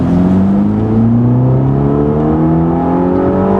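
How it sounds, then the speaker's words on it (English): A Ferrari Roma engine accelerating, heard loud from inside the cabin as a steadily rising drone that climbs smoothly in pitch with no talk over it. "you can really hear the engine loudly in the cabin. It doesn't let you forget you're driving a Ferrari."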